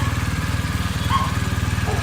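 A Kawasaki H2R superbike engine cold-starts and runs with a steady, pulsing low rumble, close and loud throughout, with a brief higher tone rising over it midway.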